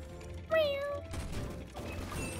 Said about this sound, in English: Oh, those little cat mews.